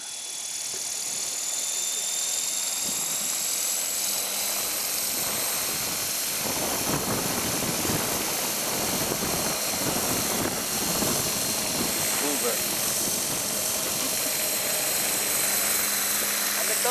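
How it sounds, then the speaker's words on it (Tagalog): An electric Ikarus RC model helicopter flying nearby, giving a steady, loud, high-pitched rotor and motor whine that holds throughout, with faint voices in the background. "And now, Mel will fly the helicopter."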